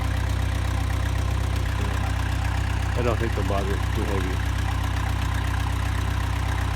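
A tractor engine idles as a steady low rumble throughout, close and constant, while a person talks over it.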